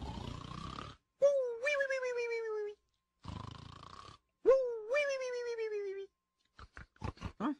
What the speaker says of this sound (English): That sounds like Mr. Lazy snoring.